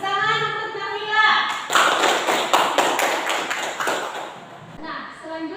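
Classroom of vocational high school students clapping together for a classmate, a short burst of dense, close handclaps lasting a few seconds, bracketed by a teacher's voice speaking before and after.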